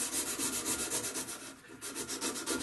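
Dry 220 grit sandpaper is rubbed back and forth over a spring steel cutlass blade in quick, even strokes. The scratchy rasp pulses rhythmically about four times a second, close and alone.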